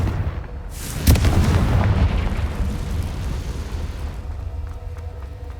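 A Confringo fire spell bursts in the Hogwarts Legacy video game: a single heavy boom that rolls into a long, rumbling decay, with no talking.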